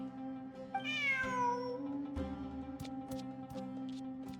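A cat meows in the video game Genshin Impact, one clear rising-then-falling meow early on, set over steady game music with a sustained tonal backdrop and a few light chimes later.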